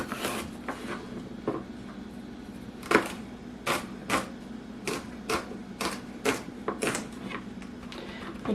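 Kitchen knife chopping celery on a cutting board while making homemade chili, a series of sharp, close knocks of the blade meeting the board, irregularly spaced, with a faint steady hum underneath.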